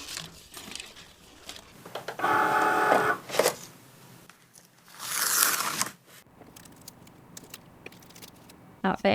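A Cricut cutting machine cuts a vinyl logo, with bursts of whirring, buzzing carriage movement separated by quieter pauses and light handling clicks.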